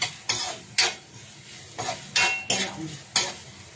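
Chicken and green peas being stirred in a pan, a spoon scraping and clinking against the metal in about six sharp, evenly spaced strokes over a soft background sizzle.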